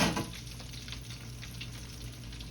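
Alligator tails frying in hot oil, old-school style, with a steady close crackling sizzle that carries on without pause and no voices.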